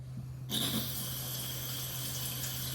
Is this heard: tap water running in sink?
yes